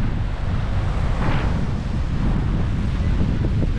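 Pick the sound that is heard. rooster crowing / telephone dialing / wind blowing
wind blowing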